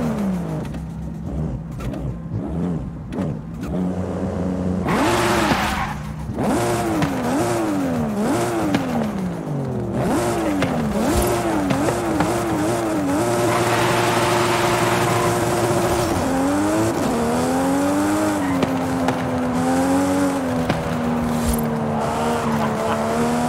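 Toyota Supra engine roaring in the Forza Horizon 5 racing game, loud and continuous, with repeated revs rising and falling through gear shifts, then a long sustained high-rpm drone and further climbing revs, with tire squeal.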